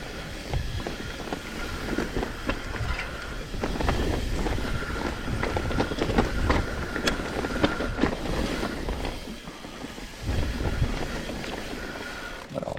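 Gusty wind buffets the microphone on a mountain bike trail, rumbling bursts rising and falling throughout, with faint background noise and no talking.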